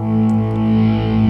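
An electric guitar chord rings through a Boss OD-3 overdrive pedal on its own, a sustained, thick distorted tone that holds steadily and decays slightly with no talking.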